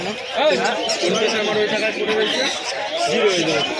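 Pigeons at an outdoor pigeon market coo and chirp amid a dense crowd, their calls mixed into constant nearby chatter and voices, busy and loud throughout.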